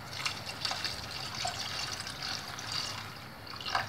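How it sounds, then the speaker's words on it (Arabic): Water pours into a pot of food being cooked with cinnamon and sugar, a steady trickling splash with brief bubbly gurgles rising near the end. "وغادي نزيد عليه الماء"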